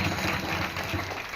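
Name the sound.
audience applause at a kirtan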